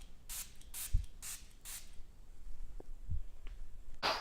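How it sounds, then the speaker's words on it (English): Small cute spray bottle of rose water misting four quick hissing sprays in a row, close and crisp, followed by faint handling clicks and one more spray at the end. "I'm gonna spray some rose water."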